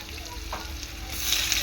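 Small fish curry with green tomatoes sizzling in a pan while being stirred, a close, continuous frying hiss that grows brighter toward the end, with no talking.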